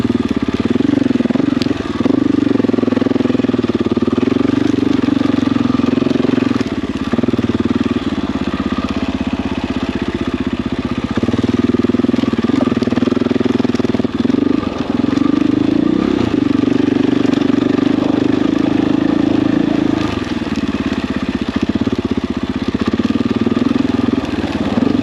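A 300 dirt bike engine lugs at low RPM on an Idaho mountain trail, producing a loud, steady, throaty drone with slight swells and dips in revs throughout, alone and without talk.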